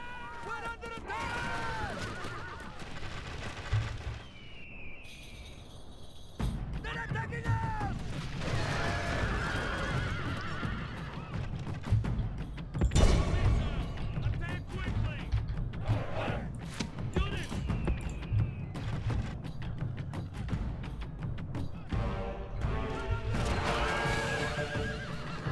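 Horses neigh and whinny repeatedly amid the din of a Rome: Total War battle, with clip-clopping hooves and a rumbling melee bed running throughout, loud and busy with overlapping calls.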